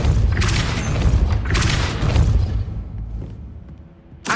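The Depulso spell fires in Hogwarts Legacy gameplay, with deep booming blasts and whooshing bursts repeating at close range, fading into quiet before a final sharp hit.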